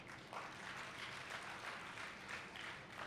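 An audience at a book fair speech breaks into applause, a dense, steady patter of many hands clapping that carries on throughout at a moderate distance.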